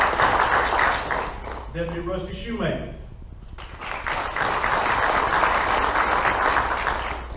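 Audience applause at a school board meeting, dense and steady clapping that fades while someone briefly speaks a name, then swells again and continues to the end.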